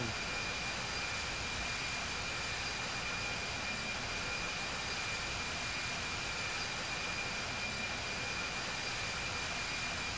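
Airliner in the Infinite Flight video game taxiing to runway 28, a steady broadband jet engine roar with a faint high whine, constant and unbroken for the whole stretch with no talk.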